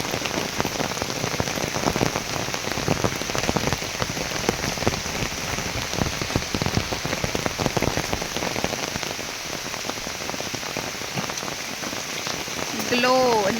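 Steady rain falls on a cashew orchard during fertilizing work, a dense, loud patter of drops hitting surfaces that continues unbroken throughout, with no voices over it.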